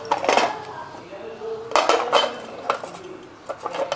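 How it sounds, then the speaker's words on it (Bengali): Sandesh molds are greased with ghee, producing several close bursts of clinking and tapping against metal and dishware, with quieter pauses between the handling sounds. "এই সাজগুলির মধ্যে আমি কিছুটা ঘি লাগিয়ে নিচ্ছি, যাতে অতি সহজেই উঠে যায় সাজ থেকে।"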